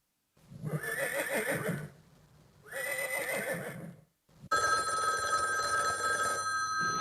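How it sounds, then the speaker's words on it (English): A horse whinnies twice in loud, shaky bursts, separated by a short pause, followed by a bright, sustained electronic ringing tone. "horse."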